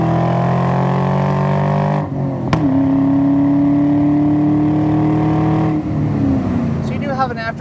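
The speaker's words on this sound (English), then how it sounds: "Usually the Borlas are quite a bit louder than this, so this must be their quiet Borla muffler." A 1996 Ford Mustang SVT Cobra with a 4.6 V8 and aftermarket Borla cat-back exhaust pulls and accelerates from inside the cabin, its engine tone rising, dropping at a shift, then climbing again, with someone talking over it.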